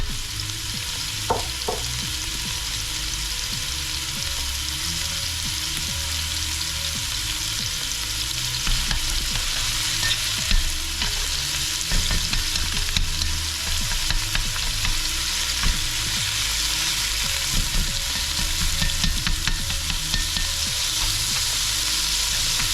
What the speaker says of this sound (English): Stir this around and let this cook.